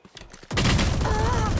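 An enemy turret in a shooter game opens up abruptly after a few soft thumps, a loud rapid stream of automatic fire that continues steadily to the end.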